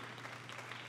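A church congregation claps together, a brief burst of fairly faint, steady clapping from the crowd with no voices over it.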